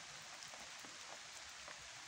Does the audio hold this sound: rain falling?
yes